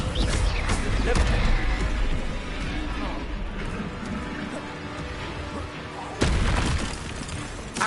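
Descendo spell impact in Hogwarts Legacy, a heavy booming crash with crunching debris over a busy combat soundscape, followed by another sharp blast near the end.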